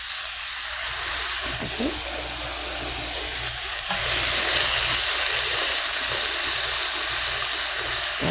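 Sliced garlic sizzles steadily in a hot pan for Korean spicy stir-fried pork, a bright continuous frying hiss that grows slightly louder partway through, with a brief spoken word and faint utensil taps.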